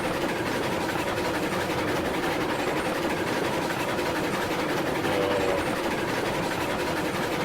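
Train running in RailRoads Online, a railway video game, giving a steady, continuous rolling rumble with faint clatter throughout, fairly loud and without talk.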